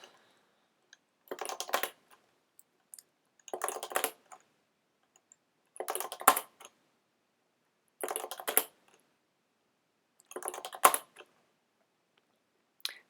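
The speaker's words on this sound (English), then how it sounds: "So I'm just typing :QA pretty quickly for each file." Five short bursts of rapid keyboard typing, each about a second long, separated by quiet pauses, close and crisp.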